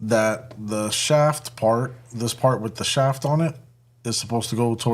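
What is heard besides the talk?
None of the usual background noises is heard.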